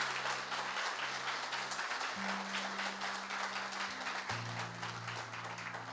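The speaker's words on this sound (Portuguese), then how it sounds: "vamos aplaudir bem forte a Jesus esta noite" Church congregation applauding during a worship service, steady clapping over sustained organ or keyboard chords that shift pitch, moderately distant.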